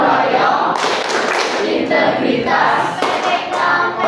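A group in a school training session clapping their hands, dense loud applause with rhythmic patterned bursts, close and continuous throughout.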